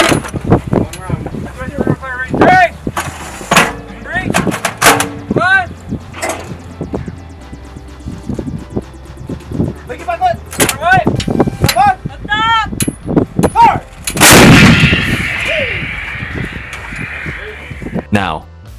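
A large howitzer fires during field trials, with sharp blasts under excited shouting from the crew and one big, rolling boom near the end that trails off.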